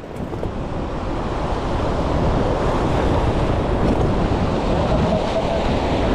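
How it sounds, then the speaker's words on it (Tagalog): Ocean waves surging and crashing continuously, a loud steady roar of surf with wind buffeting the microphone. "Sunod-sunod ang alon"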